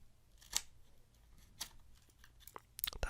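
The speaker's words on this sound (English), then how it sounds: "That's right, I'm using scissors to do this." Scissors snipping through the plastic seal on a deck of playing cards, several crisp, quiet cuts and crunchy crinkles spaced irregularly, close up in a hushed room with no talking.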